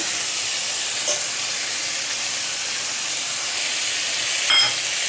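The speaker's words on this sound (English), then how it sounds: "And now we'll add this fried onion, fried brown onion." Fried brown onion goes into mutton curry cooking over a high flame, a steady loud steamy hiss and sizzle throughout, with two brief louder bursts.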